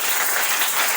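A church congregation applauds to acclaim the Lord, a dense, steady wash of many hands clapping at once, loud and continuous without any talk.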